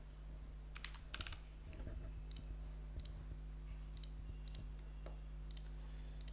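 Keys click on a MacBook Pro keyboard as a shortcut is pressed, several sharp taps in quick bursts spaced across a few seconds over a quiet steady hum.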